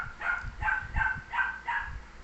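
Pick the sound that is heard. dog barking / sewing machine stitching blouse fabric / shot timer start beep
dog barking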